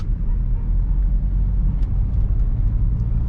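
A BMW 3 Series driving at night in Eco Pro mode, giving a steady, loud low rumble of engine and road noise heard from inside the cabin, with faint ticks above it.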